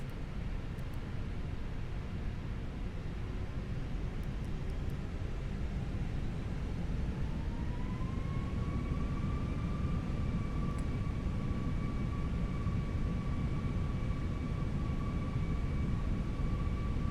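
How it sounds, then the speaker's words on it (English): Indigo Airbus A320 airliner taking off in Microsoft Flight Simulator 2024, a steady broadband engine roar throughout, joined midway by a rising whine that settles into sustained tones, loud and continuous with no talk. "Takeoff."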